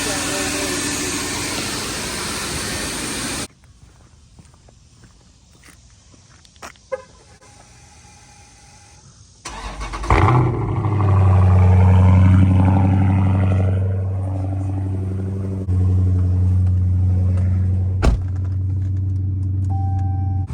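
A Dodge Charger SRT 392 fires up partway through, its V8 catching with a loud burst and then settling into a deep, steady idle that rumbles on, after quieter stretches with scattered small noises.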